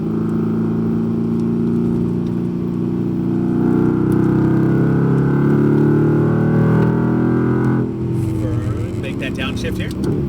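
Mercedes-AMG GT R engine droning steadily at speed on a race track, a loud sustained mid-range roar that rises under acceleration, then shifts pitch with a downshift near the end; someone talks over it throughout.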